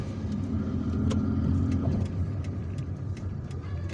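A car drives through the streets of Algiers, its engine and road noise a steady, close rumble with faint traffic around it.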